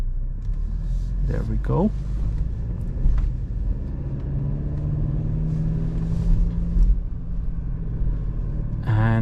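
A 2023 Mercedes C-Class C 300 4MATIC AMG pulling out of a large garage for a relaxed night drive through Zagreb gives a steady, low road and engine rumble that runs throughout, with someone talking over it.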